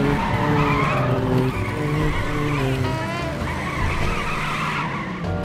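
Tires squeal in a continuous, loud skid from a German-looking car in The Saboteur video game, the screech holding steady with engine drone for several seconds.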